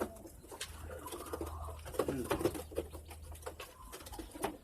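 Pigeon cooing close by in soft repeated low coos, a recovering bird in a quiet setting with no talk.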